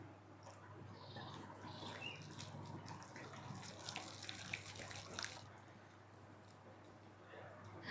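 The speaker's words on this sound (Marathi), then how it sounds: "कप पाणी ओतून घेऊयात" Water is poured into idli batter made with slightly sour curd, a soft, steady trickle and splash that stops abruptly near the end, leaving quiet room tone.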